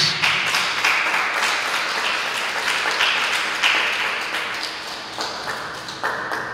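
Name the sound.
applause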